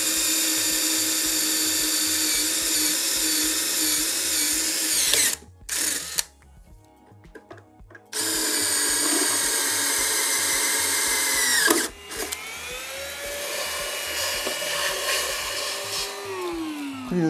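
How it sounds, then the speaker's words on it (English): A power drill whines at high pitch while boring through an electric scooter's metal frame, cutting out briefly mid-way, then resuming with the tone sliding as it bites. "now we have to drill the hole through this frame"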